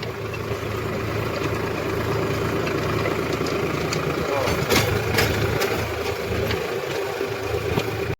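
A farm tractor engine idles steadily outdoors in wet ground near a well, a continuous low chugging rumble at close range with a few sharp clicks and knocks over it.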